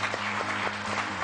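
A television studio audience applauds to welcome the guest Haluk Saçaklı, a short, steady patter of clapping over a low hum.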